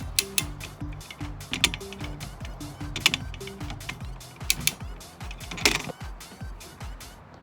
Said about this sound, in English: This come along's kind of hard to use.